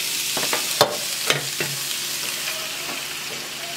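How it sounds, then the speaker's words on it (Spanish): A spoonful of salsa hits a hot frying pan with vegetables, giving a few sharp splats and a brief hiss over a steady low sizzle, close and moderately loud, with no talking. "Le voy a agregar una cucharada de salsa."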